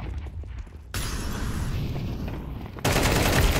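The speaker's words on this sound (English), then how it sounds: "No, I missed all my shots!" Dense, continuous gunfire in Counter-Strike 2, a steady rattle of shots filling the clip that jumps louder for the last second, with no talk over it.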